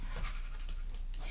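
A 39-day-old puppy panting rapidly up close, with a soft continuous breathy rhythm and faint whimpers.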